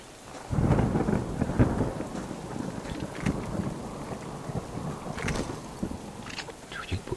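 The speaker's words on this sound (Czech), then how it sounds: "Furt prší a furt prší." Steady rain and rolling thunder fill the outdoor scene in the survival video game Subsistence, a continuous stormy wash with louder rumbles near the start and sharper spikes later.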